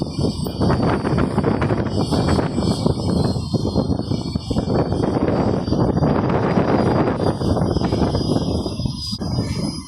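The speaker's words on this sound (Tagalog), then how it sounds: "Nadadala ng hangin si Yunsi oh." Strong wind roars across the deck of a large ship at sea, a loud, continuous gusty rumble buffeting the microphone for the whole stretch, with no voices.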